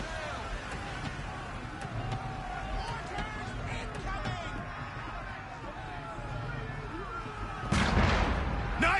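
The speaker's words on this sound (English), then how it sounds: "Mortars incoming!" Mortar fire thumps during a naval battle in Assassin's Creed III, with a heavy boom near the end over a bed of sea and ship noise and rumbling, while voices shout over the action.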